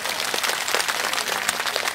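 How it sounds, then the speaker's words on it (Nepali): A church congregation claps together during a sermon, a dense, steady patter of many hands that carries on without pause for the whole moment, with no voices standing out. "अलिकति ताली सेलाएको जस्तो लाग्यो"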